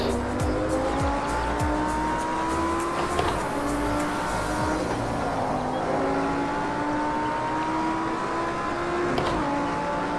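Lamborghini Huracan or Audi R8 in a video game lapping a track, with a steady engine drone that climbs in pitch through the gears, a shift around the midpoint, and constant tire squeal underneath, no talking.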